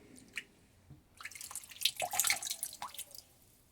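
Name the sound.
water dripping from wet cotton fabric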